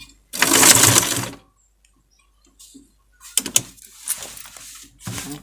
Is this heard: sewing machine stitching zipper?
yes